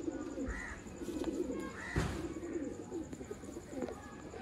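A pair of red-eyed breeder pigeons cooing close by, soft repeated throaty coos at a steady pace, with a faint constant hum behind them.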